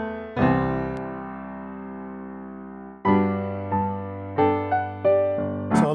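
Piano chords and single notes, passed through DualCUT high-pass and low-pass filtering for a darker, subdued top and a cleaned-up low end; a long held chord, then a sequence of separate struck notes, close and without voices.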